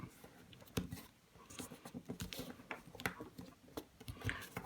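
Paper origami butterfly folds being pressed flat by hand: soft, quiet, close scratching and rubbing sounds with small irregular taps.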